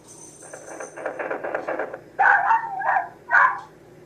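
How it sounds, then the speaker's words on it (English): A pet dog barks at home, a few loud yapping barks following a stretch of softer whining and muffled noise. "And of course my dog's barking like crazy."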